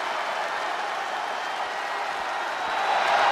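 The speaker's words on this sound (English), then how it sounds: "The sound of this crowd is deafening, and he's asking for more." A wrestling arena crowd in WWE 2K22 roars with dense, continuous cheering and applause, a loud sustained wash that swells slightly toward the end.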